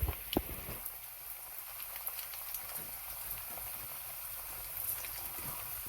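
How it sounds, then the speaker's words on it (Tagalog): Kamote, sweet potato chunks frying in oil in a pan for kamote-que before the muscovado sugar goes in, a soft steady sizzle and bubbling with a few sharp pops near the start, quiet and constant throughout. "We cook it for about 10 to 15 minutes until kamote is soft."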